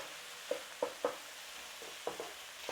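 Beef with red pepper, ground cumin and paprika sizzles quietly in a pan, with a handful of soft scraping stirs spaced irregularly over a steady frying hiss.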